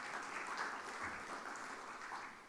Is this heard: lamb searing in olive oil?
no